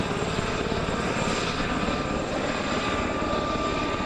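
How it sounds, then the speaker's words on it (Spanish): A helicopter flies over coca plantations in Colombia on a fumigation run, a loud steady whirring drone with rhythmic blade chop that holds constant throughout, with no talk. "le bruit d'un hélicoptère réveille des souvenirs"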